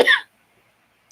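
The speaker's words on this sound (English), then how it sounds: "while I cough up a lung." A person recovering from flu gives one harsh, close cough, then a short breathy rasp about a second later, with silence between.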